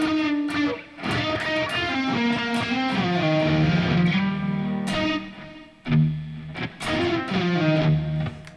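Distorted Stratocaster electric guitar recorded as a direct signal, playing loud, sustained chords and riffs with brief gaps near one and six seconds, with no voice over it.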